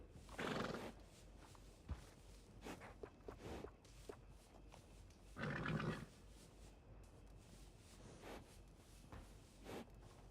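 In a video game, at a horse seller's stable, horses snort and neigh nearby, with two loud whinnies standing out, while hooves clop slowly on the ground between them.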